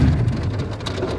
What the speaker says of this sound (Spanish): Buena agüita que está cayendo aquí por la termo.